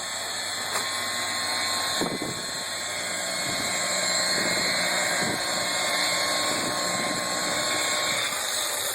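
A powered polishing wheel buffing oxidation off boat gelcoat, a loud continuous whirring drone with steady high whine and occasional scuffing contacts, running alone throughout.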